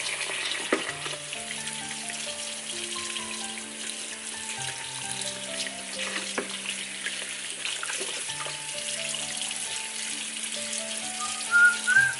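Oil sizzles steadily in a wok with occasional scraping and stirring clatter as chili and garlic fry, a continuous crackling hiss close to the listener, with faint music underneath.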